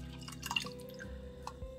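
Water poured into a pot of oats and milk for oatmeal, giving a short, soft trickle and a few drips close by, quiet and without voices.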